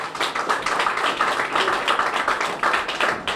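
An audience claps in a dense, steady flurry of overlapping hand claps for Eleanor Holmes Norton at a business grand opening ceremony, sustained and fairly close with no talking.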